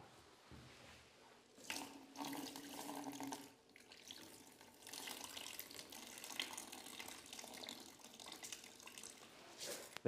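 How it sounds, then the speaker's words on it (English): Rinse water pours out of a bowl of washed rice into a sink, a steady close splashing stream that comes in a few uneven pulses, with a brief pause partway through. "Let's pour the water out."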